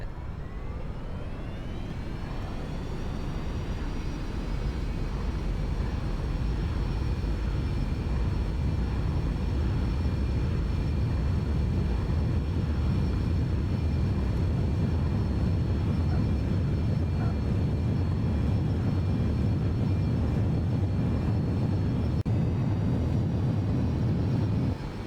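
Jet engine in the X-Plane 11 flight simulator, a loud continuous roar with a rising whine that settles into a steady high tone and holds, close and alone without talk.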